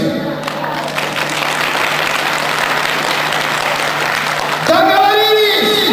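A concert hall audience at a vocal-instrumental ensemble show at a community culture house bursts into sustained applause, a dense, even clapping that carries on to the end, with a voice and music coming in over it toward the end.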